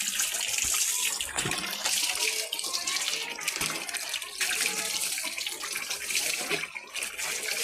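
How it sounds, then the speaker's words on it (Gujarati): Tap water pours continuously and loudly at close range while a Labrador dog is bathed, a dense unbroken splashing rush with no voices. "આવી રીતે આવતા પાણીથી નવડાવી દીધું"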